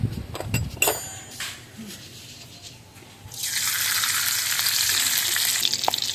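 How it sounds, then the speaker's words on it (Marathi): Ghee hits a hot kadhai for onion-garlic chutney and bursts into a loud, steady sizzle that fills the second half, after a few clanks of utensils and a quieter pause. "बर, कढईमध्ये आपण तूप टाकून घेऊया."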